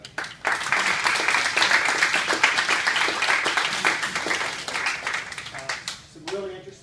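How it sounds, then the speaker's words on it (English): People at a handcycle celebration give a round of applause, a lively stretch of clapping that starts abruptly, runs steadily and fades near the end as a voice returns. "a round of applause for that"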